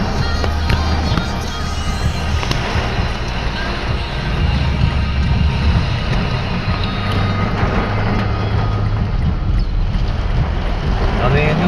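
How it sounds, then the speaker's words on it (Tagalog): Strong storm wind roars continuously, loud and close, with broadband noise and low rumble buffeting the microphone throughout, as heard from inside a ride-hailing car in heavy rain; voices are faintly present. "Ay napakalakas ang hangin."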